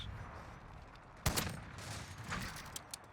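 Two sharp, loud shots ring out from a RYTEC AMR sniper rifle in Call of Duty: Modern Warfare multiplayer, about a second apart. Each crack is followed by a ringing tail over a low game ambience, with no talking.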